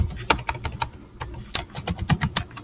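Rapid keyboard typing, a dense run of sharp key clicks at an uneven rhythm, close and fairly loud with no voices.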